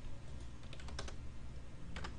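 Quiet clicking on a computer keyboard comes in a few short bursts of keystrokes over a low background hum.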